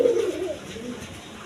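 Arabian pigeons at a farm give a soft, low coo, close by and brief, fading against a faint background hum.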